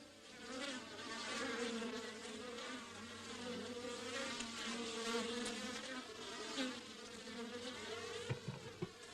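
Bees buzz steadily and close, a dense humming drone that wavers in pitch, with a few faint clicks near the end.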